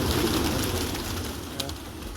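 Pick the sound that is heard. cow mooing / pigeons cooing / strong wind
pigeons cooing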